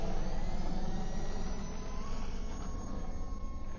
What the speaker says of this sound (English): you can hear the noise of the motors there